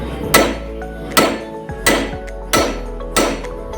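Blacksmith's hammer striking a railroad spike on an anvil while forging tongs, five sharp ringing metallic blows at a steady, slightly uneven pace, each with a bright clang and short ringing decay.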